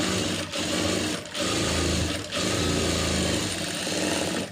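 A sewing machine stitches the lining around a blouse neckline in fast, close-up bursts of rattling needle chatter, separated by three short pauses as the fabric is guided.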